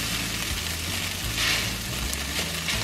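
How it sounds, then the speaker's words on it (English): Spicy noodles pan-fry in a hot pan with a steady, close sizzle throughout and faint clattering of a utensil stirring beneath it. "So we're just going to pan fry the noodles."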